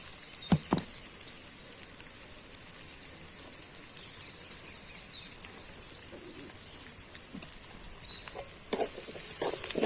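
Onions sizzle steadily in a hot pan, a constant bright crackling hiss, with a couple of sharp clinks of a utensil stirring near the start and end.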